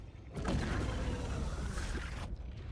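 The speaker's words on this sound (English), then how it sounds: "Okay, this one has landing sounds too." A spaceship in the Star Citizen video game sets down with a loud, broad rushing whoosh of engine thrust that swells in, holds for about two seconds, then cuts off.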